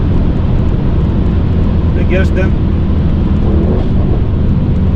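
A Stage 2+ tuned Mercedes E63S making about 820 hp drones loudly and steadily at speed, a heavy low rumble filling the cabin, while someone talks over it.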